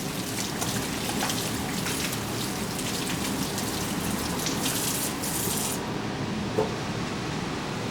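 Tap water runs steadily while hands are washed, a continuous hissing splash at close range that cuts off abruptly near the end, leaving a faint clink afterward.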